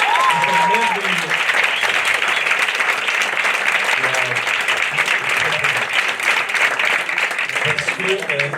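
A festival audience in Hossegor gives the hosts thunderous applause at a comedy show, a dense, loud, sustained wash of clapping with a voice talking faintly over it.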